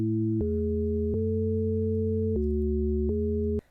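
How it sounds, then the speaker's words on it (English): A pure synthesized sine tone holds steady, stepping abruptly between a few different pitches with faint clicks at each change, then cuts off. "The sine wave is one of the fundamental waveforms"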